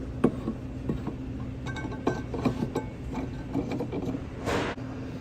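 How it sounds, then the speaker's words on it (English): Ratcheting, metallic clicking as a spare tire hold-down screw is unscrewed in the trunk of a Honda, repeated clicks and small clinks at a steady pace, close by, with no talking. "To remove your spare tire, what you do, go in, unscrew this screw here."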